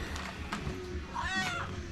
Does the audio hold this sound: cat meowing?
yes